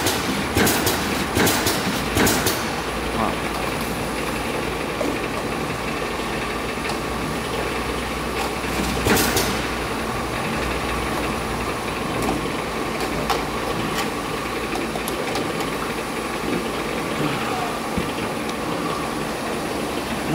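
A desiccant inserting machine running with a continuous mechanical hum and whir, broken by a few sharp clicks and clacks near the start and one more partway through.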